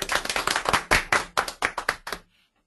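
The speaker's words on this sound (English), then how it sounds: "Can we have a huge round of applause for Aditya?" A class claps for a student's correct answer, with a dozen or so sharp, distinct hand claps in an uneven rhythm, close and fairly loud, stopping abruptly into silence.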